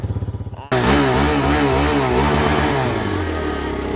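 A dirt bike idles with a rapid putter on a snowy day, then suddenly revs hard into a loud, close engine snarl that rises and falls and settles into a steady drone.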